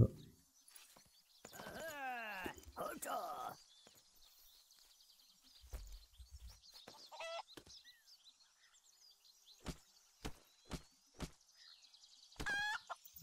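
A hen clucks in the video game Craft The World, with a handful of scattered, faint clucks and light clicking steps separated by quiet gaps.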